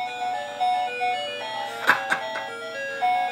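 A toy plays the tinny electronic melody from the Nintendo Friday the 13th game, a thin chiptune-like tune of sustained tones with a couple of brief clicks, close and moderately loud, with no talking.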